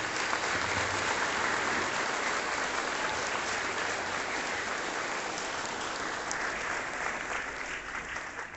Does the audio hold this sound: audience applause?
yes